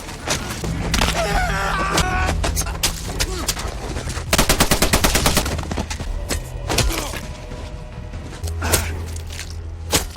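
Rapid bursts of gunfire crackle throughout a movie battle scene, with dense automatic volleys and scattered single shots, loud and close, over thumps and movement.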